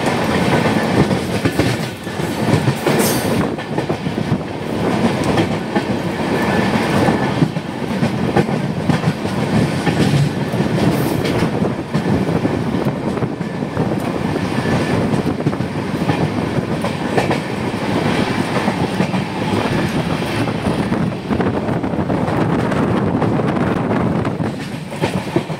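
Brahmaputra Mail passenger train running on rails, a steady loud rumble with clickety-clack wheel beats, heard from inside the carriage with no talking.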